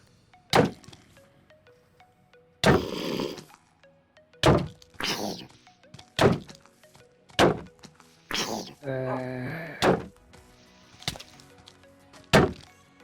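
Blocking sound effects from the Minecraft console edition video game: a series of sharp, loud thunks and knocks at irregular intervals, with a few longer rustling bursts and one buzzing tone between them.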